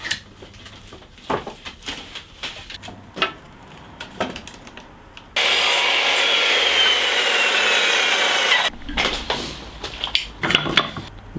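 Reclaimed pine boards having their mitred edges sanded smooth, a sustained close abrasive hiss lasting about three seconds between intermittent handling knocks and scrapes of wood.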